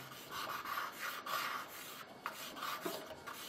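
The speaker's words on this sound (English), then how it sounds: "So you're using charcoal now, not pastel." Fine charcoal dragged across drawing paper, giving a close, dry, grainy rasp in repeated rubbing strokes with brief scratchy accents and no voices.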